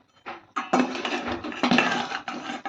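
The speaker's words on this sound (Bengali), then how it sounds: "এবার আমি পটলগুলো একে একে করে দিয়ে দেবো এর মধ্যে।" Pieces of fried pointed gourd (potol) dropped one by one into a bubbling coconut-milk prawn curry, each landing with a close, clattery splash and clink against the pan in a quick, uneven series.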